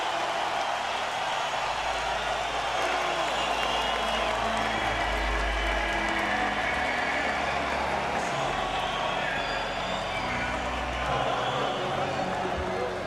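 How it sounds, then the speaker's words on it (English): An arena crowd at the Strikeforce event, Fedor versus Werdum, roars steadily before the MMA fight. It is a dense, continuous wall of cheering with a low rumble underneath, and it stays constant throughout. "listen to this crowd"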